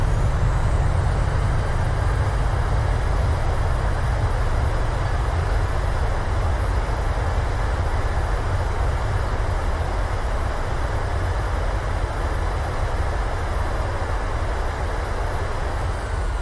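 A PMDG 737-700 in a flight simulator rolling out after landing with thrust reversers deployed, producing a loud, steady, broadband roar that holds constant and only eases slightly as the rollout continues.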